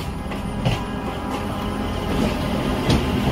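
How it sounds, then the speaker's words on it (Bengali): A cartoon train pulls into a station at night in light rain and comes to a halt, heard as a steady rumbling roll with a few clattering knocks, fairly close and alone. "রামনগর এসে যখন ট্রেন থামল, তখন রাত 10টা বাজে।"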